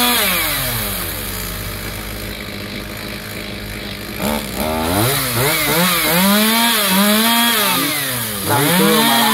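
A chainsaw cuts through a coconut tree outdoors. The engine drones at first, then revs up and down in repeated rising and falling surges as the blade works through the trunk, loud and close.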